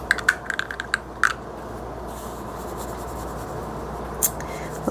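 A pen with shimmer ink scratches across paper in short, quiet strokes and a few small ticks, close and faint, followed by a low steady hiss.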